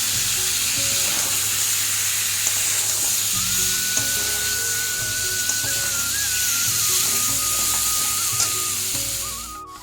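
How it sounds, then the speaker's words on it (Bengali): Boiled potatoes fry in hot oil, an even, close crackling sizzle throughout, with occasional stirring clicks and a thin whining tone running through the middle. "আলুটা দিয়ে আমি একটু ভালো করে এটারে ভাজবো।"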